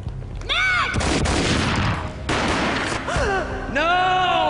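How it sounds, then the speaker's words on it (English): Gunfire bursts in the Max Payne video game, loud rapid shots packed together over a few seconds, with brief gasping cries and music-like tones layered around them. "A gunshot boomed and she fell down in slow motion"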